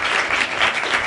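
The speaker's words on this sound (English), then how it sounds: "give Brad a round of applause" Audience applauding steadily in a conference hall at a Defcon gathering, a dense, even wash of clapping that holds at full strength throughout, with no voices on top.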